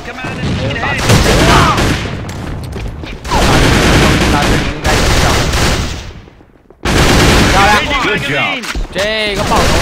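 Rapid gunfire and firefights from the competitive shooter A.V.A, played at a world championship esports match, crackle loudly in dense bursts with a short lull, under excited commentary.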